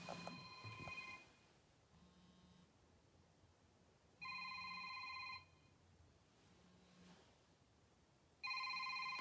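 Telephone ringing unanswered: two-tone electronic ring bursts at regular intervals with quiet gaps between, moderately loud and alone.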